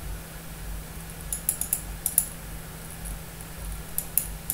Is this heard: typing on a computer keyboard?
yes